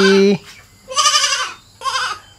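A baby goat at a farm-style eco attraction bleats loudly and close by in two or three drawn-out, quavering cries separated by short pauses, with a person's voice briefly heard at the start.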